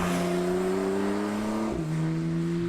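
Intake noise from a 2017 Porsche engine's plenum piped into the cabin, a steady tonal whir with harmonic lines that drops in pitch partway through, heard from inside the car.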